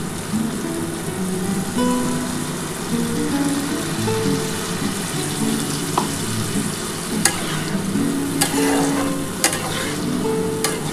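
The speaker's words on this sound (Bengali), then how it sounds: "এবার আমি কিন্তু জল দিয়ে দিচ্ছি।" Water hits hot oil with fried potatoes in a pan for a fish curry, giving a loud continuous sizzle and bubbling, with occasional sharp clicks and scrapes of a spatula or spoon.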